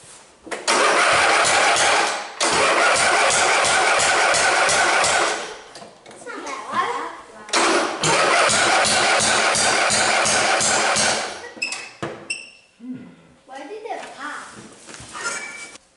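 A lawn mower engine with the choke on is pull-started, sputtering loudly in bursts that catch and die away, followed by quieter gaps and stray handling noises.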